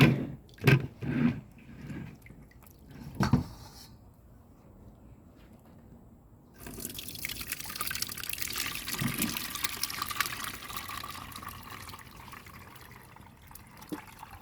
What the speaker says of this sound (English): Your hands they are big to squeeze the coconut together. So you get more juice.